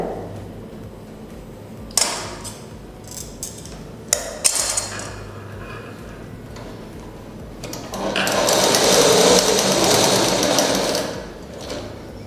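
A sewing machine stitching down a pleat on fabric: first some clicks and handling knocks, then a sustained whirring run of stitching near the end, close and clear with no talk.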